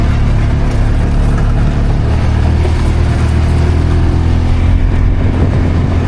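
A vehicle drives through a black cherry orchard on an old farm, crossing granite ground; its engine gives a loud, steady, close low rumble with a rough broadband rattle, continuous throughout and with no talking.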